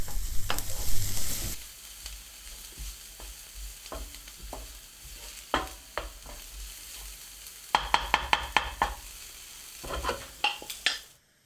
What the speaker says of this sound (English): Once you've got all the onions fried off, the garlic's all coming through nice and scented